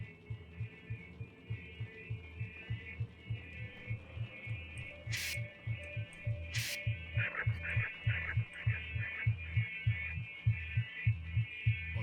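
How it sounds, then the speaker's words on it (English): A steady, rhythmic heartbeat thuds low and close throughout the sci-fi exploration game Lifeless Planet, layered over a constant electronic hum, with two brief sharp bursts cutting in midway. "You can hear a heartbeat."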